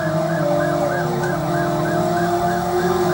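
In the PlayStation driving game Driver, a police car siren wails in a steady, rapid rise-and-fall cycle, loud and constant over rumbling engine noise.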